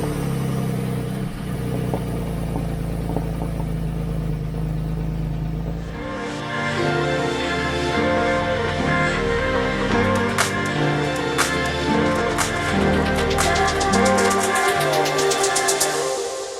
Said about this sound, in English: But first, cold start.